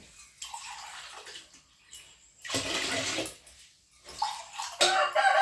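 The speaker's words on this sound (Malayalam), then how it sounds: "കുറച്ചുകൂടി വെള്ളം ഒഴിക്കുന്നുണ്ട്" Water is poured from a glass into a pressure cooker holding rice for sweet pongal, in three separate splashing bursts with quiet gaps between them, close and moderately loud.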